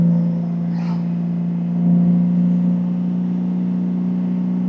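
Steady, loud engine hum from a Honda Goldwing motorcycle on the move, with the throttle rolled gently toward 4,000 RPM at about 50 mph. The pitch holds nearly level, with a slight swell partway through.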